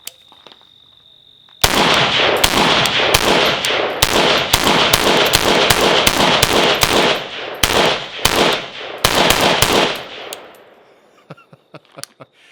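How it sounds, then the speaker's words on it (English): A rifle chambered in 300 Blackout or 7.62x39 with a Primary Arms 1-6x ACSS scope fired outdoors, loud rapid shots in quick bursts for about eight seconds, then a ringing fade and a few faint clicks. "let me go ahead and do some shooting real quick"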